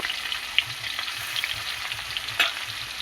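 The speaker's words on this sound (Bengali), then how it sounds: "দেখুন, তেলটা গরম হয়ে গেছে। এবার মাছটা দিয়ে দেব।" Sankal fish pieces fry in hot oil, giving a steady, close crackling sizzle with small pops and spits throughout.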